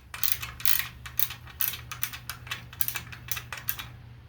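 Ratcheting wrench clicks while bolts are removed from the shield of a Husqvarna riding mower, a rapid, steady run of close mechanical clicks over a low hum with no talking.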